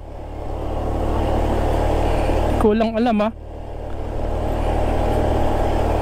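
A motorcycle engine drones steadily while riding uphill at Timberland Heights in San Mateo, Rizal, loud and close for the whole clip, with a brief spoken phrase partway through.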